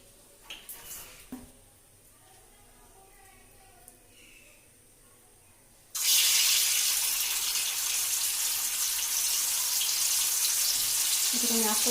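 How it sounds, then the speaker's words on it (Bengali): Chana dal fritters begin frying slowly in hot oil after a quiet stretch, a loud, steady, close sizzling hiss that starts abruptly halfway through and continues unbroken. "এটাকে আমি আস্তে আস্তে ভেজে নেব"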